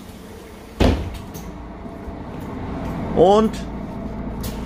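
A former Bogestra city bus, car 856, opens its doors with a pneumatic hiss and thud, followed by a second rising mechanical whine, heard close inside the vehicle over a steady engine hum while someone speaks German.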